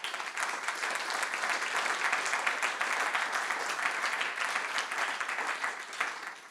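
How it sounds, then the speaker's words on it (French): A conference audience applauds steadily, a dense wash of many hands clapping that holds level for several seconds and then tapers at the end, with no voice over it. "je vous demande d'applaudir Arnaud de Tikamoon."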